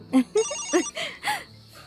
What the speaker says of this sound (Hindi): रुक जा, माँ का फोन है